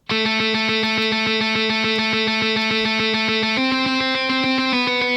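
Heavy distorted guitar hammers rapid palm-muted octave notes in a heavier take on a song intro, a tight even stream that shifts pitch twice, loud and up close with no voices.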